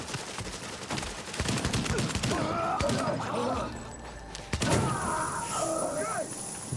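Gunfire in a video game shootout comes as rapid, loud automatic bursts with heavy thuds and crashes, while players shout over the fighting.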